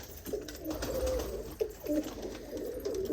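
Pigeons in a loft coo in short rolling bursts, a few close calls repeating over a continuous low hum, with no talking.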